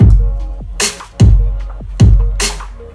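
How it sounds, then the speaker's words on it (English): An EDM drum beat of punchy electronic kicks and bright snares loops in a steady, repeating pattern, loud and close with no talking over it. "These are the kicks and the snares that I've arranged."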